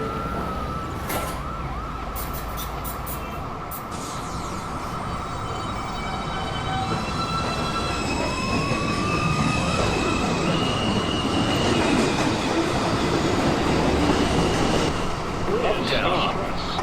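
A Manhattan-bound 2 train on the New York subway pulls out of 207 Street station, its motors whining up in rising tones over a steady loud rumble, with a voice speaking over the noise.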